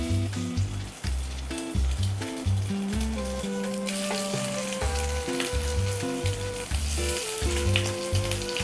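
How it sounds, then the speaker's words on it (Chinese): Lychee-stuffed shrimp balls frying in oil in a pan, shrimp side down, with a steady close sizzle throughout and no voices. "跟住非常之簡單，我就將佢擺落去煎啦。"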